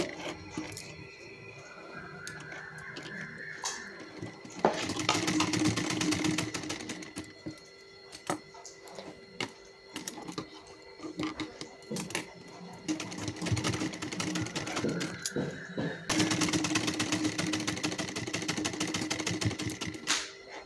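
A sewing machine stitches folded fabric strips for a small nappy-style doll dress, running in two long steady bursts with softer mechanical ticking and handling noise between them.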